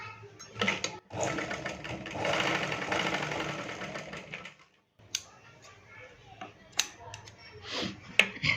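A sewing machine stitches a katori blouse in close, loud whirring bursts, one long run followed by silence and then short stop-start stitches, with someone talking at times.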